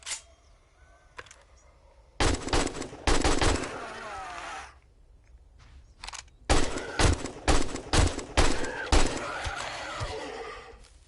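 Gunfire in the PS5 survival game 7 Days to Die: a couple of isolated shots, then loud, rapid volleys, a brief lull, and another long stretch of quick, close shots.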